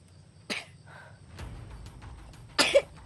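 A person coughs twice, with a short sharp cough early on and a louder, rougher one near the end, close by over a low background rumble and some faint shuffling.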